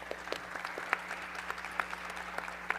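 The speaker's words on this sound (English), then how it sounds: "Please welcome me with an applause" Light applause at a Web 3.0 gaming conference in Busan, a modest audience clapping steadily with a few distinct nearby claps popping out over a low hum.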